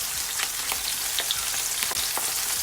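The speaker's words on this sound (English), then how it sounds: "you want to fry it on medium to high heat for about 10 to 12 minutes" Oxtail pieces dusted with flour fry in a pot of hot oil over medium-high heat, giving a steady, close, dense sizzle with faint crackles and no voices.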